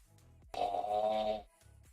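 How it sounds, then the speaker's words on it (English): A person snoring loudly, one long rasping breath of about a second standing alone between quieter stretches, with no talk over it. "She's snoring loud as fuck."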